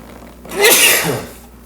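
A single sharp sneeze bursts out close by, rising quickly and fading within about a second, with quiet before and after.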